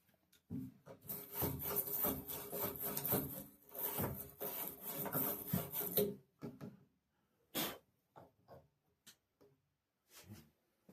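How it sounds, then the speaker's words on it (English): Brass faucet fittings with green patina scrubbed clean in steady, close rasping strokes for about six seconds, then a few short separate rubs with pauses between them. "Clean up those brass fittings as well."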